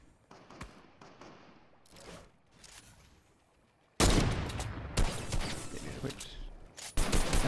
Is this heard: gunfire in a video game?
yes